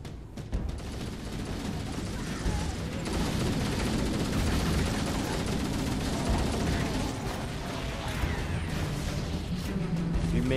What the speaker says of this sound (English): There were so many explosions.